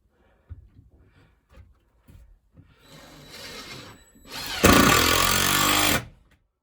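In a garage attic, a power tool drives screws into wood in two short bursts near the end, the second louder and steadier, after a few soft handling knocks and scrapes.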